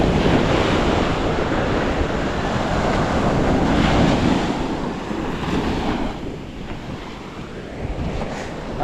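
Large ocean waves crash and surge at high tide, a loud continuous roar of surf with wind buffeting the microphone, easing slightly toward the end; no one speaks.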